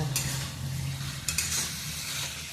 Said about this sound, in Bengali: এই যে ছোটো মাছের চচ্চড়ি বসাইছি, হয়ে আসছে।